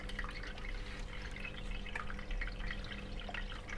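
Water trickles steadily from a running pump over small pebbles, a soft continuous splashing and dripping heard close, with a low hum underneath.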